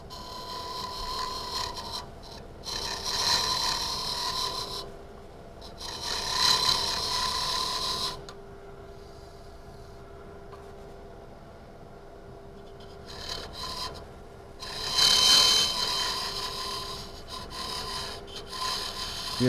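A sharpened lathe tool cuts into oily cocobolo hardwood while turning a friction-fit box, giving rasping, scraping passes in several bursts separated by quieter gaps, close and fairly loud, with no talking.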